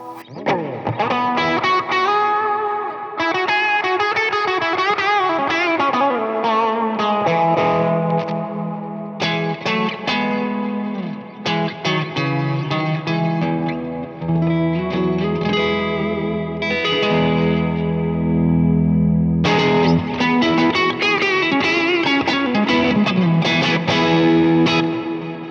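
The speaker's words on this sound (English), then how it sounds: "Definitely comes alive a bit more with the drive up on the Muse driver." Electric guitar run through a Muse overdrive pedal with the drive turned up into a Boss IR-2 amp and cabinet simulator with big reverb, playing loud, distorted chords and melodic lines with a thick, echoing tail throughout.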